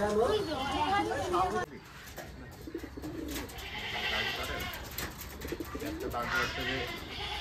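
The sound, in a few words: old breed Giriraj pigeons cooing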